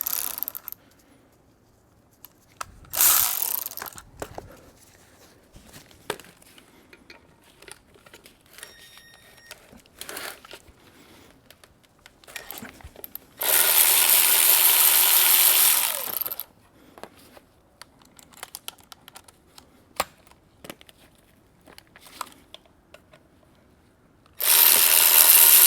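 A wrench works an intake manifold bolt on a GM OBS truck's Vortec V8 during an intake rebuild, giving sparse ratcheting clicks and two longer bursts of mechanical rattling, close and with no talking.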